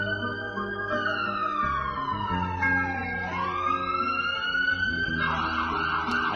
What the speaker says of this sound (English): I think it's obvious the sirens are also added in.